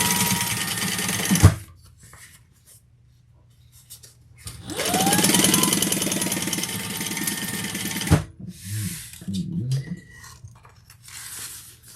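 Sewing machine stitching down the sides of a handmade backpack, running in two sustained bursts with a pause between, then a few softer mechanical clicks as the fabric is handled.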